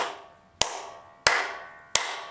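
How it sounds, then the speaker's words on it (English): Three sharp hand claps spaced evenly in an empty room, each followed by a long ringing tail of reverberation, alone and fairly close. "the clapping had not such a resonance"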